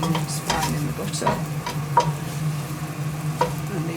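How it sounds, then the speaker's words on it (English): Onions sizzle steadily in butter in a pan for a ragu, with occasional scraping and stirring clicks over the continuous frying hiss. "Here we have the butter and the onions frying in the butter."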